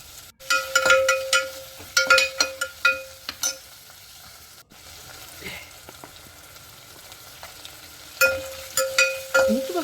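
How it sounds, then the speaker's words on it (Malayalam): Onion, capsicum, garlic, ginger and tomato sauté in a pan, a soft background sizzle broken by clusters of sharp clinks and scrapes from stirring, with quieter stretches between. "നമുക്കിനി കുറച്ച് മസാലയും കൂടെ ചേർത്ത് കൊടുത്തിട്ട് നല്ലപോലെ ഒന്ന് വഴറ്റിയെടുക്കാം."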